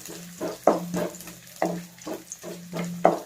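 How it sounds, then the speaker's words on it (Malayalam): Coconut pieces sautéing in hot coconut oil for a Kerala duck roast, a soft sizzle broken by repeated scraping stirs with a spatula, about six regular strokes, close and without talk. "ഇതിലേക്ക് നമുക്ക് നാളികേരക്കൊത്ത് ചേർത്ത് കൊടുക്കാം. എന്നിട്ട് നന്നായിട്ടൊന്ന് വഴറ്റി കൊടുക്കാം."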